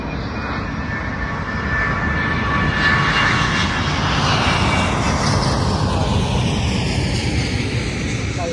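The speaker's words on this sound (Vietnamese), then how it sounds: "Chiếc máy bay xuống rồi cả nhà." A fixed-wing airplane comes in to land, its engine roar loud and steady throughout with a broad, sustained rush that slowly shifts in pitch as it passes overhead.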